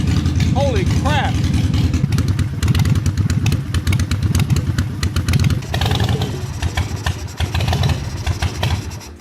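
A broken Harley motorcycle engine runs on its first start, loud and close with a rough, clattering idle throughout, while a person talks briefly near the start.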